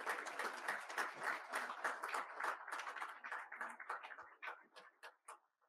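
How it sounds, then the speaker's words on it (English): A conference audience applauds its sponsors, a dense patter of many hands clapping that gradually thins to scattered claps before fading out. "Let's give our sponsors a big round of applause."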